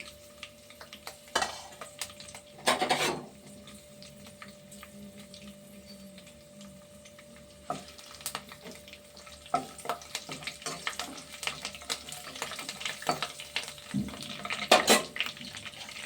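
Five green chillies sizzle and fry in a pan, stirred now and then. A quiet steady crackle runs underneath, with scraping strokes in a few bursts near the start and more clustered toward the end.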